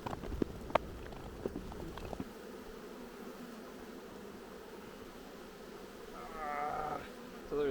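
Honey bees buzz around stacked hive boxes in an apiary, a steady close swarm drone with a few sharp clicks and knocks from handling the boxes.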